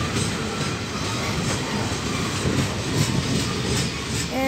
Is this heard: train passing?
yes